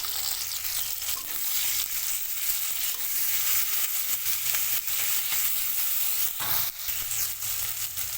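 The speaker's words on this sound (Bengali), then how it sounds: "এর মধ্যে কেটে রাখা টমেটো দিয়ে দিচ্ছি এর মধ্যে স্বাদ মতো নুন একটু হলুদ করে" Chopped tomato fries with salt and turmeric in onion browned in oil for a soybean curry, giving a dense, even sizzle that hisses without a break throughout, close by, with faint stirring and no voices.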